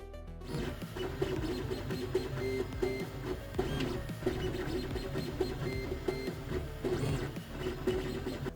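Bambu Lab 3D printer at work printing a model, its stepper motors whirring in quick, shifting tonal runs with rhythmic mechanical clicks and buzzes, close and steady throughout.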